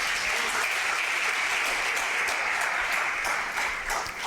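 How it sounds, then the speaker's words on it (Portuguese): Sustained applause from a church congregation during a sermon, a dense, steady wash of many hands clapping that holds evenly throughout with no speech over it. "Dá um aplauso, Jesus."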